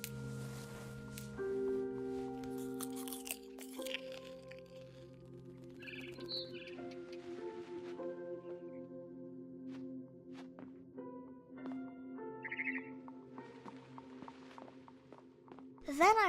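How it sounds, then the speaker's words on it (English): A barn swallow chirps outside a window in the video game What Remains of Edith Finch, with a few short, faint bird calls rising over a steady musical backdrop. "Then I heard chirping outside my window. It was a barn swallow going back to her nest."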